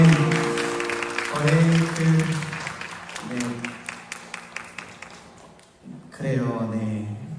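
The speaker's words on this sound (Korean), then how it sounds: "우리 하나님께 영광의 박수 올려드립시다." Congregation clapping at a university worship night, a dense burst of applause mixed with music and a singing voice, fading to scattered claps before swelling again near the end.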